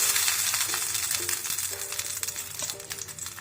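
Coconut oil hisses and sizzles on a banana leaf laid in a hot pan for frying sardines, a steady close bubbling crackle with a few light clinks and no talk.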